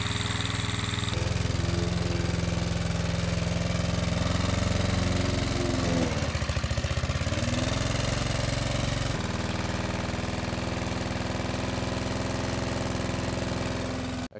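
A lawn mower engine runs hard at full throttle with overfilled oil in the cylinder, a loud, continuous droning roar close by that dips and wavers briefly midway before steadying again, with no talking.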